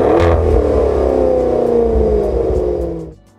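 The Ferrari-built V8 of a Maserati Levante Trofeo revs hard from standstill, a deep loud rumble rising and holding before dropping away sharply at the end.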